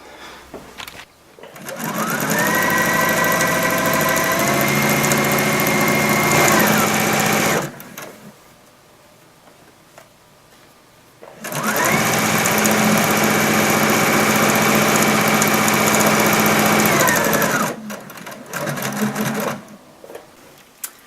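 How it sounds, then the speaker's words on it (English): A sewing machine stitches around the edge of a pillow in two long, steady whirring runs, separated by a quiet pause, with a short burst at the end. "I'm just going to sew all the way around"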